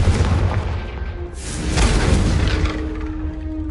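Confringo blasting spell explosions in the Hogwarts Legacy video game on PS5: a sustained, loud booming roar with a sharp blast surge midway, trailing into rumbling fire and magical whooshes.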